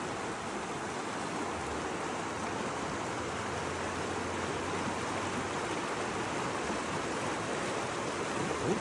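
A creek flows behind an angler fishing with a bobber and worm for trout, giving a steady, close, broadband rush of running water that stays even throughout with no talking.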